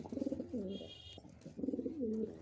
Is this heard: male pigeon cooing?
yes